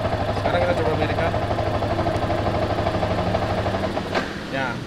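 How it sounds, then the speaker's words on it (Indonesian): A Yamaha R15 motorcycle engine idles with a steady, rapid low chugging pulse, then drops away near the end as it stalls, while someone talks over it. "Motor sekarang posisi hidup. Ini kedengaran ya suara mesinnya."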